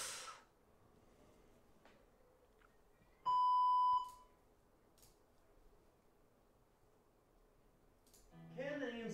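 A single clear electronic notification beep from a phone getting TikTok alerts rings out for about a second in a quiet room, with faint background noise and a voice starting near the end.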